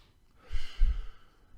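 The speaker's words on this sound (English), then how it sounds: "You take a few deep breaths." Two slow, deep breaths drawn in and let out close by during a quiet relaxation exercise, each a soft airy rush with a sigh-like release, alone in a still room.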